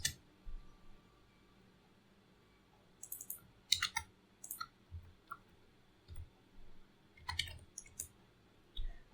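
Computer keyboard typing while writing code, scattered bursts of crisp key clicks in short irregular runs, close and fairly quiet against a faint background hum.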